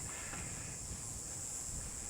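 Steady wind blowing hard across an open lakeside campsite on a rainy day, a continuous broadband rush with buffeting on the microphone and no voices.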